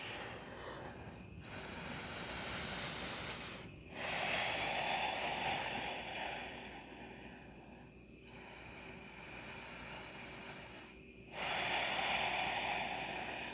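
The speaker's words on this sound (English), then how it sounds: "And breathing." Slow, deep yogic breaths during a morning yoga flow, each inhale and exhale a long, close, breathy hiss through the nose, rising and falling in steady waves with brief pauses between.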